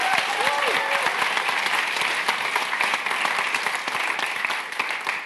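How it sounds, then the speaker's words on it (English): A tech festival audience at the Royal Institution gives a sustained burst of loud, dense applause with crowd murmur mixed in, continuing steadily throughout. "Please give her a massive round of applause."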